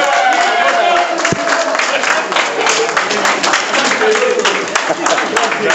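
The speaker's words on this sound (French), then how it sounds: "On applaudit très fort." A meeting crowd applauds after an executive committee election result, loud continuous clapping with a roomful of hands and some murmuring voices mixed in, sustained at a steady level.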